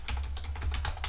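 Rapid keystrokes on a computer keyboard as a command is typed on a Linux desktop, about nine distinct clicks in quick uneven rhythm, close and clear over a steady low hum.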